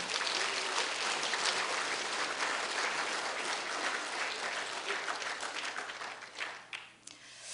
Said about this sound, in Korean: 우리 육여전도회를 위해서 다시 한번 격려의 박수를 해주겠습니다